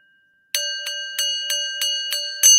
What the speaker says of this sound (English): it would just be bells everywhere